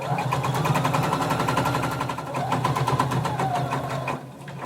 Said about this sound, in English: stitch till we get to your center back